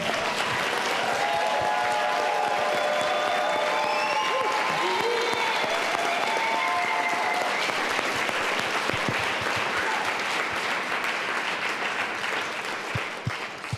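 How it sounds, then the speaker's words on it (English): Sustained applause from a conference audience honoring Kevin and his team, a dense, steady wash of clapping lasting over ten seconds, with faint voices and whoops scattered underneath before it slowly tapers. "big applause for Kevin and his team"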